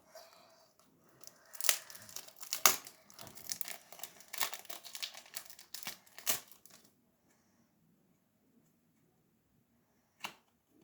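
A foil football card pack crinkles and tears open up close in a burst of sharp rustling and crackling over several seconds, then falls quiet with one brief crinkle near the end; no talking.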